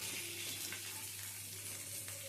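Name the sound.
pointed gourd frying in pan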